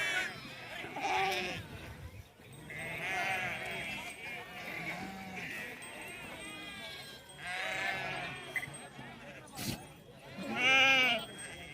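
Several sheep bleat loudly and repeatedly, nearby, with overlapping calls from the flock.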